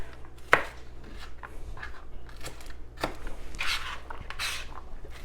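Knife chopping onion into small pieces on a board, a sharp clack near the start followed by soft, irregular cutting and scraping strokes, close and moderately quiet with no talk.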